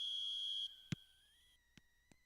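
A referee's whistle sounds for kickoff in the PES football video game: one faint, shrill, sustained blast of under a second, followed by a few soft clicks in near silence.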